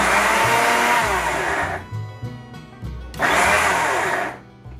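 A mixer grinder blends fruit with water in short bursts: a loud whirring roar runs for about two seconds, stops briefly amid clattering, then a second loud burst follows before cutting out.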